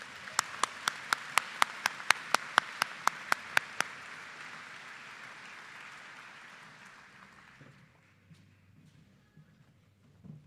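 A college commencement audience applauds an award recipient in one steady round, with a few sharp claps standing out early on before the clapping fades away toward the end.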